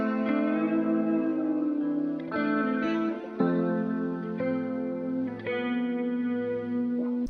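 Layered electric guitar lead takes spliced together for a vibey beat, heavy with chorus, echo and distortion effects; sustained melodic notes shift every second or so over a steady warm backing, loud and continuous with no talking.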